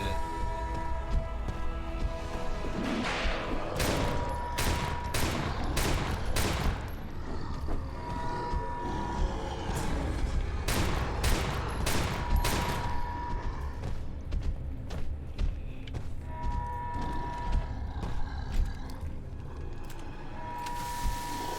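Magnum gunfire and an explosion in the video game Daymare: 1998, a dense run of loud gunshots and blasts with mechanical clanks, sustained over game music and effects.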